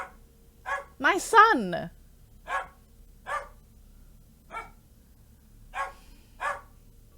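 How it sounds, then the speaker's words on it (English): A dog barks repeatedly nearby, about eight sharp barks spaced irregularly, with a brief stretch of speech mixed into the early barks. "We're just gonna have to power through the barking dog."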